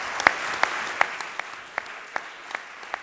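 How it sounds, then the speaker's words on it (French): A few remaining hands clap at the 2012 Manager of the Year award ceremony, about ten sharp, separate claps spaced a fraction of a second apart, fairly close and fading out. "Je vous propose simplement d'applaudir une dernière fois nos trois lauréats"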